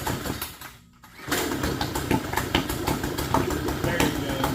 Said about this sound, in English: It still doesn't like to idle.